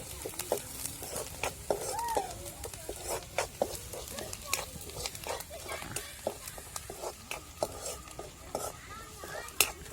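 Chopped onion fries in a pan for shev bhaji, giving a low sizzle under frequent clacking stirs of a spoon against the metal, with a voice murmuring faintly in the background.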